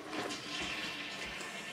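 A toilet flushes in a bathroom, giving a steady rushing, gurgling wash of water at close range with no talk over it.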